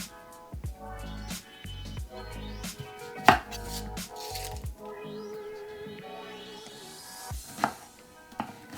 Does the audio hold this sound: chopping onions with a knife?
yes